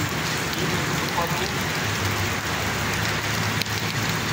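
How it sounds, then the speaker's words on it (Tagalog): Steady rain falls on surfaces in a continuous, fairly loud wash with scattered drops, and a voice or two is faintly present beneath it. "Ulan pa man."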